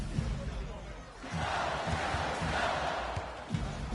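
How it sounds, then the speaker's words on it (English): Fans at an NBA game between Memphis and the New York Knicks boo in a sustained low roar that swells and holds, with voices and court sounds mixed in. "I'm hearing some boos from the crowd."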